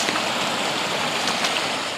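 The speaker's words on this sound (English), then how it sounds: "so the water's pretty high and rushing." High stream water after recent rain rushing steadily along a hiking trail in Nahmakanta Public Lands, a loud, dense, unbroken roar of churning water close by.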